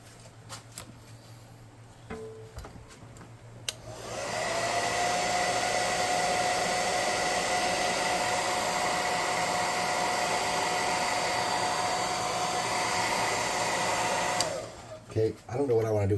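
A hair dryer blows on a freshly painted Heroclix miniature, switching on after a few quiet seconds and holding a loud, steady whooshing roar for about ten seconds before cutting off.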